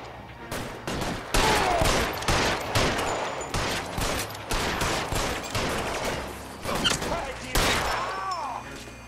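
Repeated gunshots ring out in a shootout in the video game LA Noire, dense volleys of loud, sharp cracks fired in rapid bursts across the scene, with a voice speaking briefly amid the shots.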